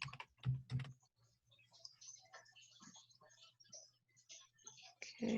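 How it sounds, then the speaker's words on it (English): Someone types on a computer keyboard while working in Excel, a quick close burst of clicking keystrokes followed by softer scattered taps, with quiet speech and a low steady hum underneath. "I'm going to type the word health."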